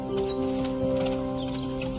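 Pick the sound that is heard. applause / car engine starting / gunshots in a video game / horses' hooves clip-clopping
horses' hooves clip-clopping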